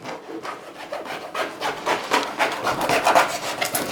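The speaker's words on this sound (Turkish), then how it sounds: "Önce çapat ekmeğini kesiyorum." A knife saws through a crusty ciabatta loaf for a sandwich, giving a steady, close rasping scrape with repeated back-and-forth strokes and no talking.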